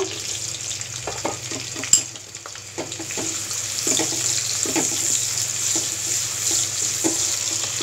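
Chopped onion frying with garam masala in a pan for egg biryani, a steady sizzle with scattered stirring clinks and scrapes, close and clear.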